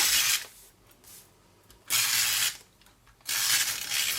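A Stampin' Up Snail adhesive tape runner is dragged across paper in three loud, raspy ratcheting strokes, each about half a second to a second long, with quiet gaps between them.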